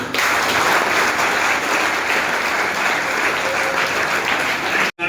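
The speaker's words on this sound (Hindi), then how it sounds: "इस पे चाहो तो आप ताली बजा सकते हो" Audience applause at a seminar on financial literacy and a drug-free India held at an ITI, a loud, steady wash of many hands clapping alone for about five seconds before stopping abruptly.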